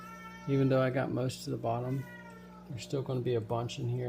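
A house cat meows repeatedly and loudly close by, its drawn-out cries overlapping with someone talking while he works on a brine shrimp hatchery.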